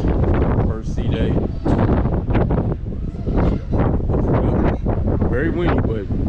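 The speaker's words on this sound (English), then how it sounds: "Very windy, but it feels good out here" Strong wind buffets the open deck of the Carnival Vista cruise ship on a sea day, roaring and gusting loudly against the microphone in bursts throughout, with no clear voices above it.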